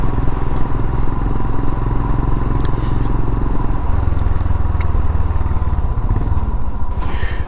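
A motorcycle engine thrums close and loud on a Yorkshire road as the rider makes a slow U-turn, its steady rumble shifting slightly in pitch midway, with faint clattering.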